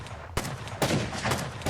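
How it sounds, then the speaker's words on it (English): Three sharp gunshot bursts in the video game Rust go off at uneven intervals, each cracking and then fading, loud and close. "he was just taken out by some gunfire"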